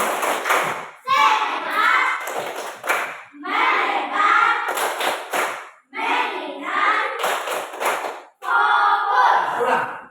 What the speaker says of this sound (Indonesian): Coba kita lakukan tepuk fokus dulu.